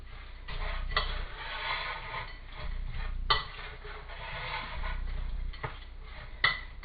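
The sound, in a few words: mixing mincemeat with black pepper in a bowl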